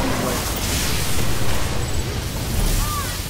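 A rift ignites in a Destiny Iron Banner match, giving a dense, sustained roaring blast of noise that stays loud and steady throughout, with no talk over it.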